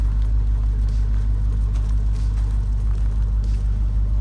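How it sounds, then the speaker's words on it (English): A pickup truck engine idles steadily in 30-degree weather, a loud, even low rumble running throughout with no knocks or ticks, close to the listener and with no talking. "You can see it fires right up. No knocks, no ticks, nothing funny like that."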